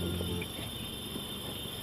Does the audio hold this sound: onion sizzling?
no